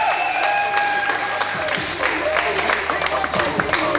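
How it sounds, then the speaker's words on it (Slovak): Audience applause at a school talent show awards ceremony in Margecany, steady broadband clapping with a few whistles or cheers on top, sustained and fairly loud throughout. "Obrovský potlesk"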